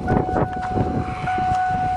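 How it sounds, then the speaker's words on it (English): Steady two-tone door-open warning chime of a rusty old Mercury Marquis on a farm, sustained throughout with the door left open, under rumbling handling noise and background clatter. "Dinger sounds normal."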